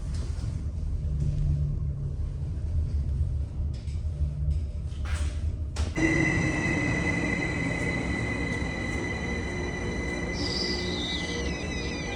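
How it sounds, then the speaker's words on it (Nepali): A small mini train passes through Switzerland, starting as a low steady rumble. Midway it turns louder, with rolling wagon noise and high, sustained wheel squeals that ring on to the end. No one speaks. "यो चाहिँ ओस लिन जाने ट्रेन सानो मिनी ट्रेन हो"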